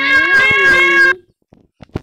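A cat meows once in a long, loud, drawn-out call close by, followed by a short pause and a few faint scattered sounds.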